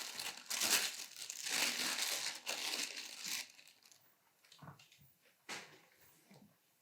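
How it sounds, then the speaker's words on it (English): Protective plastic film peeled off a new Fujifilm X-T4 camera with battery grip, a close crinkling, crackling rasp that runs for a few seconds, then thins into softer scattered crinkles and light handling bumps. "isn't it satisfactory just like to peel stuff off?"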